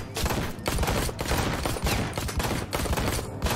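Dense, continuous gunfire from the video game Ride to Hell: Retribution, a loud rolling fusillade of overlapping shots with brief dips between bursts and no talk.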